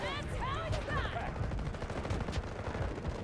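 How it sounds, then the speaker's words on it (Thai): Repeated shotgun blasts in the shooter game Delta Force, close and punchy, over a busy battlefield din with brief tonal game sounds near the start. "เสียงลูกซองมาเลยนะ"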